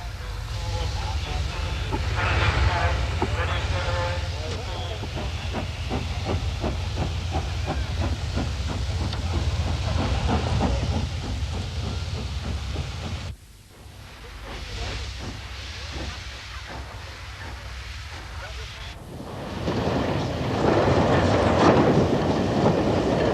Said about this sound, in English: Almost all the locomotives shown here were built by the Southern Railway and are very much on home territory